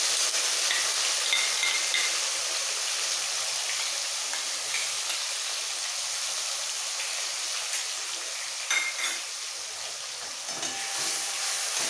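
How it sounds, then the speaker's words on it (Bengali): Two medium onions' worth of onion paste fries in hot oil over whole cumin seeds, giving a continuous close hiss and sizzle with occasional louder spits, no voices. "সামান্য একটু গোটা জিরে ফোড়নটা ভাজা হয়ে গেলে এর মধ্যে দিয়ে দেবো দুটো মিডিয়াম সাইজের পেঁয়াজ বাটা সবটাই দিয়ে দিচ্ছি"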